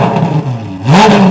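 A Ferrari with straight-piped exhaust gives a brief, loud rev, climbing sharply in pitch near the end after a lower idle-like drone, heard up close with no talking.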